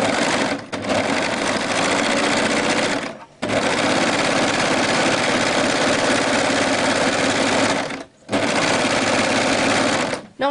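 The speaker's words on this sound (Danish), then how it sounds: "Så nu kører jeg simpelthen bare lige en kantlok hele vejen igennem den øverste kant." An overlocker serges continuously along the upper waist edge of a sewn skirt, a loud, close, steady mechanical whir with three brief pauses as the seam runs through.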